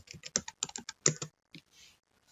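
Fingers type a short burst on a computer keyboard, quick close clicks in an uneven rhythm, then a brief pause and a few softer taps.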